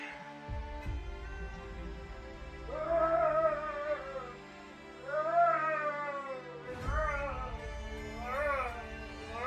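A cat meows close by in a quiet room, giving about four drawn-out, rising and falling cries spaced a second or two apart.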